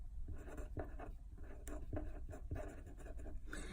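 Pen or marker strokes scratching out a system of equations, a quick run of short scraping bursts with brief pauses, close and fairly quiet, with no talking.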